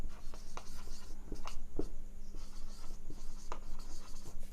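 Chalk or marker scratches across a board in short, uneven strokes, close and steady, a run of writing sounds lasting a few seconds with no speech.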